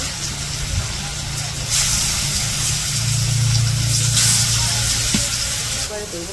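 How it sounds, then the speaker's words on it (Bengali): Fish frying in oil in a simple village kitchen gives a loud, steady sizzle that fills the whole stretch, with occasional stirring and faint talk underneath. "তো এখন মাছগুলো ভাজবো"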